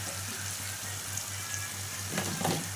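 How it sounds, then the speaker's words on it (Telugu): Thinly sliced tomatoes fry in a pan with a steady soft sizzle and a few brief louder crackles near the end, close and continuous with no talking. "అవి బాగా మగ్గేంత వరకు వేయించుకోవాలి."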